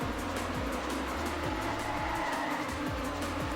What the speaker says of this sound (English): Cars might be a bit loud this round